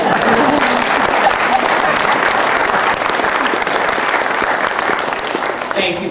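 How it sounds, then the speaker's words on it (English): A large audience at a 2009 Webster University commencement applauds, a dense sustained wash of clapping that fills the whole stretch at steady loudness, tapering slightly near the end. "Some applause would be appropriate right now."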